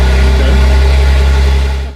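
A BMW M3 Competition inline-six with an Akrapovic exhaust and carbon tips runs loudly up close, a deep steady rumble that tapers off at the end.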